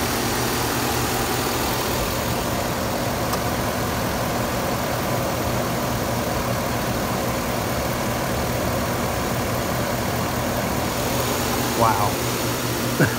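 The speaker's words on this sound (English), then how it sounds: "Now that is a smooth engine." A 2011 GMC Sierra 1500 pickup truck engine idles in a steady low drone, smooth and even, with a faint whirring of electric fans over it and no clear talking.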